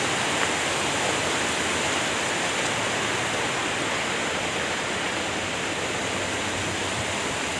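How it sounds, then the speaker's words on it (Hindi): A waterfall in the Bailadila hills roars in a steady, unbroken rush of falling water, full and constant throughout. "झरना है"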